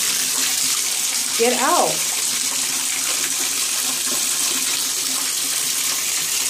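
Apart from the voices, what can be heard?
water running into a bathtub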